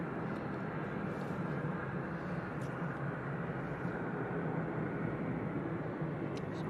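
Boeing 737 Max airliner at Manchester Airport, a steady broad jet roar holding at moderate distance throughout, with no voices over it.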